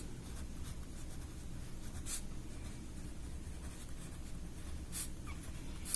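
Pen writing a maths exam solution on paper, a steady faint scratching under a constant low background hum, with a couple of brief brighter strokes, close and soft, no talk.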